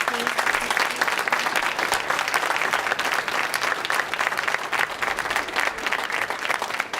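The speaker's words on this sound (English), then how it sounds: "I propose a big applause for Hito Steyerl" Sustained applause from an audience for the artist Hito Steyerl at the end of a talk on technology and art, dense steady clapping holding at an even level throughout.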